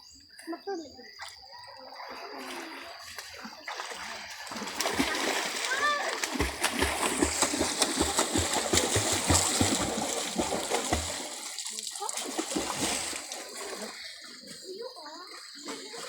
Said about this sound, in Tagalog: Maglangoy-langoy sa tubig.